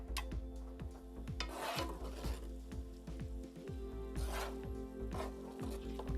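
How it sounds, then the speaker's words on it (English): Ground coriander being stirred gently into a Thai sauce in a pan, giving a steady scraping, rasping rhythm of repeated strokes over a low background hum, close and moderately loud with no talking. "I'm adding a 1/4 teaspoon of ground coriander. Mix it gently into the sauce."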